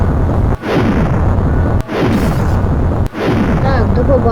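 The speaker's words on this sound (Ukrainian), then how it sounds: "Друзі, тут вибухи сильні. Катуни взриваються." A destruction video game sets off repeated loud, deep booming explosions with rumbling tails, broken by brief silent cuts about every second and a half.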